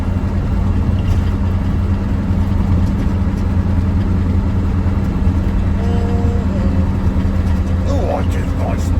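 A Mercedes 123 car runs with a steady, close, low engine drone throughout, some faint voice-like sounds blending into the rumble.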